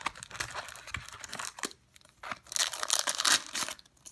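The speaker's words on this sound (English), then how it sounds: "These packs open really easily." Foil wrappers of 2014/15 MVP hockey trading card packs being torn open and crinkled, quiet close-up rustling and ripping in irregular bursts, growing busier toward the end.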